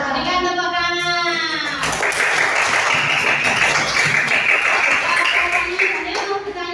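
Children clapping together in a primary school classroom, a dense burst of applause lasting several seconds, loud and close, briefly preceded by a voice speaking.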